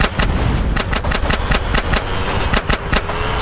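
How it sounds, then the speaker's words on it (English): Rapid gunfire in the video game GTA San Andreas, a loud close burst of sharp repeated shots in an uneven rhythm over a constant rumbling engine bed. "I'm about to pop these fools. Roll up on them, CJ, so I can get a shot."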